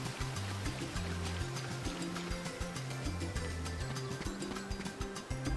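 A small waterfall in the video game Kingdom Hearts Final Mix, steady rushing water under looping game music with a repeating low melodic pattern.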